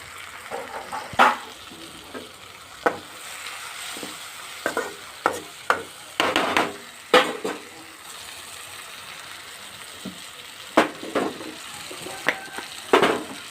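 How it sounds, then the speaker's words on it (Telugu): Brown onions and pounded masala fry for egg biryani, a low steady sizzle broken by irregular bursts of stirring and spoon scraping against the pan, close and moderately loud with short quiet gaps. "అవి కూడా వేసి ఒక 2 minutes ఫ్రై చేసి మసాలా దంచి పెట్టుకున్నాం కదా"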